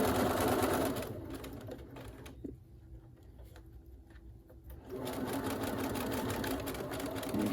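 A sewing machine stitches a medical face mask, its rapid mechanical whir running loud and close, dropping to a quieter pause in the middle before the steady stitching resumes at full pace.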